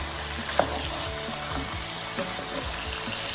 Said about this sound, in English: So you need to let the gizzard and the vegetables fry nicely